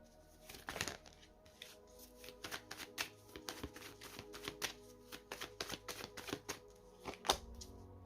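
Tarot cards are shuffled and laid down on a table in a quiet room, making a close series of soft crisp slaps and riffles in irregular bursts.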